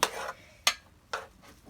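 Boiled, mashed potatoes being scooped out and tossed to backyard chickens, heard as four soft, close scraping thuds spaced roughly half a second apart, with no talking.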